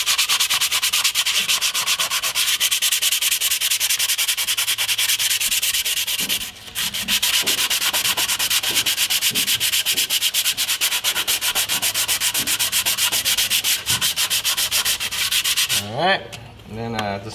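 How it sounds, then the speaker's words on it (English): A composite patch on a carbon blade is sanded by hand with 120-grit sandpaper, producing a continuous rapid scratchy rubbing close by with a brief break midway and a few quiet knocks. "Then this is some 120, slightly finer sandpaper."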